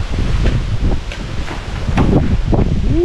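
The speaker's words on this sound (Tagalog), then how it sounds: "sobrang lakas ng hangin" Strong wind buffets the microphone in a constant low roar with gusting swells, close and loud, with no voices.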